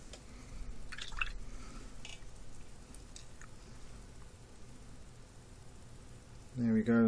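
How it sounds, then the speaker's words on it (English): A paintbrush rinsed in a water pot, with small splashy drips and swishes, then a louder burst of sloshing at the end, near and partly under faint talk. "rinse the brush"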